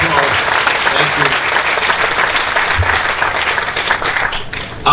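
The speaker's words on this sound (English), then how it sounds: "she deserves a round of applause" An audience at a university groundbreaking event claps loudly for Cornell's provost and president-elect, a continuous, dense round of applause that carries steadily through and tapers off toward the close.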